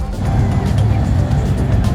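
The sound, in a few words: car passing at a car meet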